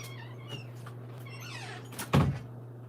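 A door opens with a faint creak and then closes with a single solid thud, heard close indoors over a low steady hum, with faint meow-like sounds earlier.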